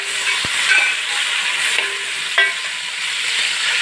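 Onion and tomato fry in a pan for mutton dum biryani. A loud, continuous sizzle hisses close by, broken by a few light clinks of stirring, and nobody speaks.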